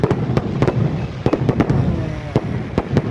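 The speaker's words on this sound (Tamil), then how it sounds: "கோட்டைப்பட்டினங்கந்திரி வானவேடிக்கை மிக சிறப்பாக சூப்பராக இருந்துச்சு" Fireworks crack and boom at the Kottaipattinam Kanthiri festival, with sharp irregular bangs in quick succession over a steady crowd rumble.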